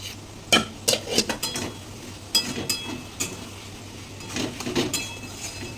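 Fried potatoes are tipped into a simmering curry and stirred, with a series of close clinks and scrapes of a spoon on the pot over a low sizzle, irregular and with no talking.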